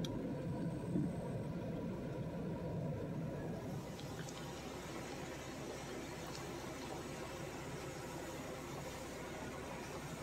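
A car rolls slowly along a road in Florida, road cruising for snakes, producing a quiet, continuous low engine and tyre rumble with steady background noise and no other distinct sounds.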